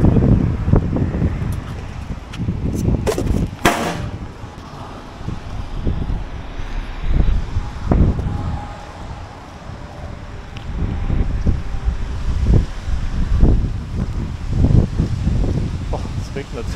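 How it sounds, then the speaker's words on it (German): Strong wind buffeting a microphone at a seaside truck parking spot, gusting loudly in uneven rushes across the whole stretch, with someone talking over it. "So, ist ganz schön Wind hier."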